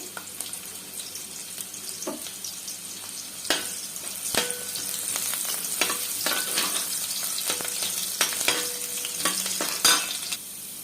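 Chopped onions frying in oil in a pot for mutton curry, a steady close sizzle broken by sharp clicks and scraping stirs throughout, with no voices.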